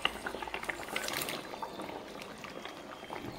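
Fish curry broth with vegetables simmering in a pot, a soft continuous bubbling hiss with faint irregular pops and small clinks, fairly quiet and steady throughout, no voices.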